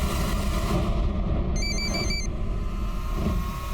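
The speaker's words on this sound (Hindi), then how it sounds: "फोन।" A short electronic phone ring of repeating tones sounds over a busy, noisy background with low rumbling throughout.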